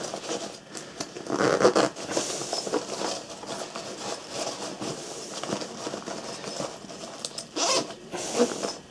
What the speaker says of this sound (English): Zip everything up and let's close this bag up.